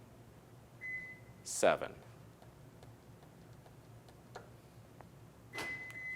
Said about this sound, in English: it just unlocked the entire vehicle and beeped at you